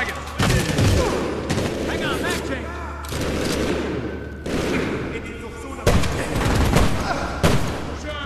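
Loud gunfire bursts from a shotgun in the video game Medal of Honor Warfighter, with several sharp blasts and booms repeating across a dense, noisy battle scene with voices in the background.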